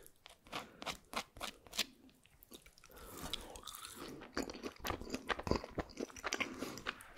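Close-up crunching and chewing of Burger King food, with a series of crisp bites and wet mouth sounds in an intimate ASMR style, and no talking over it.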